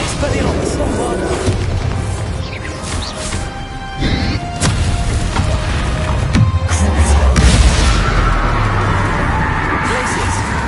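Bombarda blasting spell explosions in the Hogwarts Legacy video game, heavy booms over a dense, constant roar of spell effects, loud and continuous with a deep surge near the end.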